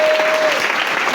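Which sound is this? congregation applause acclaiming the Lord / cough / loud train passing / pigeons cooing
congregation applause acclaiming the Lord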